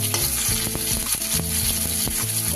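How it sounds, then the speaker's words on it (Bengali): Bitter gourd frying in a wok gives a loud, dense sizzle, broken by clattering, rhythmic stirring strokes of a spatula against the pan, with no talking. "এগুলোকেও আমি একটু ভাজা করে নেব।"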